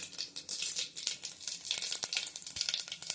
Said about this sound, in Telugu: ఇప్పుడు ఆవాలు వేసానండి.